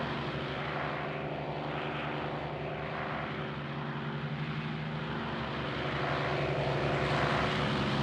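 A propeller aircraft engine in the Arma 3 video game drones steadily on the runway during takeoff, a loud, constant tonal hum that builds slightly toward the end, with no voices over it.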